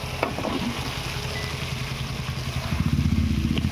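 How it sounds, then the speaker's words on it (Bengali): Fried potatoes and elephant foot yam hiss and sizzle in a pan of cooked-down spice masala, a steady close frying sound with faint stirring toward the end. "এবারে দিয়ে দেবো ভেজে রাখা আলু আর ওল।"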